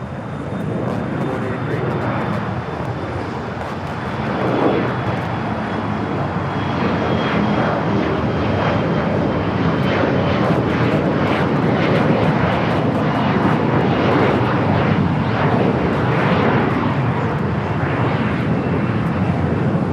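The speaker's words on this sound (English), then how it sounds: "Alaska Horizon special livery. Go Cougs. Now taking off." Alaska Horizon plane in special livery taking off at Los Angeles LAX, a loud rising engine roar with propeller-like pulsing that builds and holds strongly across the clip.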